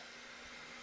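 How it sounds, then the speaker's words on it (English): A vacuum cleaner runs in a working kitchen, giving a steady, loud broadband whoosh that holds unchanged and alone throughout. "my dad wanted me to keep on vacuuming every time I did this because it's a working kitchen"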